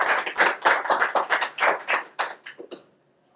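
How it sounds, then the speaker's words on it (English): Small group clapping after a session on delegate selection for an Article V Convention of the States: about a dozen distinct, fairly close claps in a loose steady rhythm that thin out and stop, leaving near silence. "I want to give them a round of applause"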